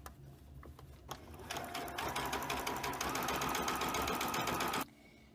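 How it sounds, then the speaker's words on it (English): A sewing machine understitches a neckline facing on a Simplicity 1613 garment in a single continuous run of a few seconds, preceded by light taps and handling. "Then you're going to understitch on top of the facing."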